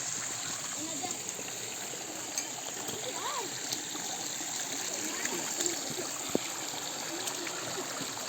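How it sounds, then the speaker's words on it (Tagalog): A river stream flows along a rural path, a steady moderate wash of running water with light trickles, while people talk over it. "Pangalawang ilog."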